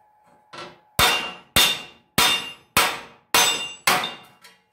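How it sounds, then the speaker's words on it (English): Six heavy sledgehammer blows strike metal on an anvil in blacksmithing, in a steady rhythm, each a loud ringing clang that fades before the next, after a faint lighter tap. "You use a sledgehammer."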